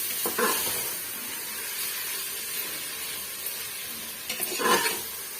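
Tomatoes frying in a pan for chicken biryani, a soft steady sizzle with a couple of short bursts of stirring and scraping, fairly quiet and with no talking.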